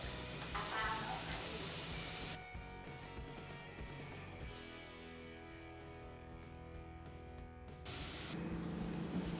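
Bacon being stir-fried with chili and salt in a hot pan, giving a loud sizzle that eases for several seconds and then flares again, with scraping from the stirring and no voices.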